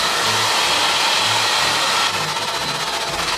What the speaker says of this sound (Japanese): ちょっとこの前髪をオールバック気味で乾かしていきたいと思います。